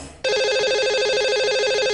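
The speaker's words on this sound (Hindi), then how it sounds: "तो लगाते हैं इन्हें कॉल और करते हैं इनसे बात।" Telephone ringback tone during a call placed to a lucky caller on a Hindi radio show, starting abruptly after a quiet moment and then pulsing steadily and loudly in a fast repeating warble, with no voices.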